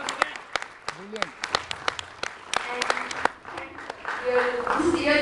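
Applause from an audience of students rises and falls in scattered claps, with talking over it and a louder burst of clapping building toward the end.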